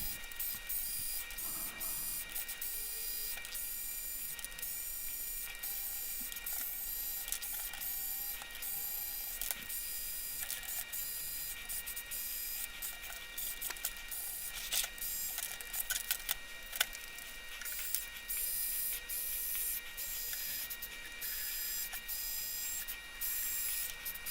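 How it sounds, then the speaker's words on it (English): An electric screwdriver loosens the spoke nipples on a Brompton folding bike rim, giving a continuous whirring buzz with short bursts and clicks throughout, close and steady, with no speech. "I've actually used an electric screwdriver here just to make the process go more quickly"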